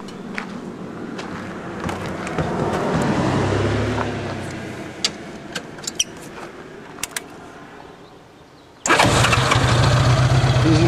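A 1983 Honda Goldwing Aspencade motorcycle engine cranks over and fires up, settling into a steady, loud idle near the end, heard close and without talk.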